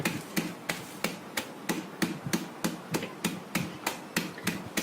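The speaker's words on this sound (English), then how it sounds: "So just pound them like this with a rolling pin." Hazelnuts pounded with a rolling pin, a quick run of about fourteen sharp, evenly spaced close thuds with a crunching edge.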